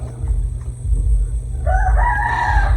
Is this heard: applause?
no